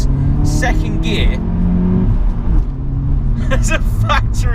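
A 2017 Volkswagen Polo GTI with a boosted engine and the center-pipe exhaust resonator deleted accelerates hard in second gear, its engine note loud and close, rising steadily under a voice talking throughout.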